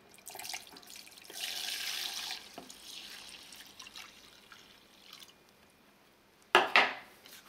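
Alcohol is poured into an activated carbon filter in a home distillation setup, giving a soft, faint trickle that rises and fades, followed by a short sharp clatter near the end.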